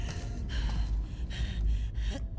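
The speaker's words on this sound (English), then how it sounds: "Your breathing's worse." Ragged, labored breathing from a wounded character in The Last of Us Part II, heard close as a series of harsh gasping inhales and rasping exhales in an uneven rhythm, with no talking.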